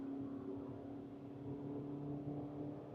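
A Maruti Suzuki Victoris AllGrip automatic at full throttle gives a steady, muffled engine drone heard from inside the cabin, faint and even with no voices.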